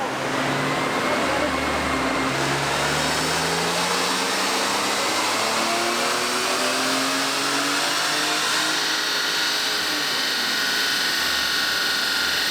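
A 160,000-mile BMW E46 M3 engine revs hard and climbs steadily toward its limiter near 6,500 RPM, a loud, continuous rising drone with a rough, buzzy edge and no talk over it.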